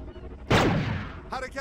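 A single loud gunshot rings out in a military video game operation, trailing into a short decay, with a brief voice heard right after.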